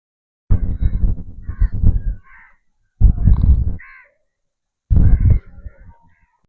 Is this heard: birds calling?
yes